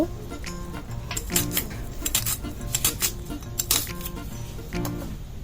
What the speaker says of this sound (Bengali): এবার আমি পেঁয়াজগুলো ভালো করে কুচি কুচি করে কেটে নেব।